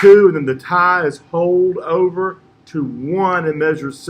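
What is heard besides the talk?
No distinct noise like a dog, phone or traffic.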